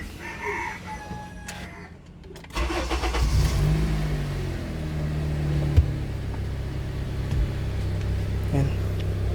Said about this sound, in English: So what I'll do now is I'll start the vehicle.